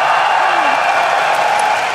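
Large crowd roaring and chanting in a League of Legends esports arena during a 2014 EU LCS match, a dense, loud, continuous wash of voices throughout with no pauses.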